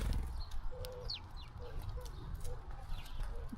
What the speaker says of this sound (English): I think those are mourning doves?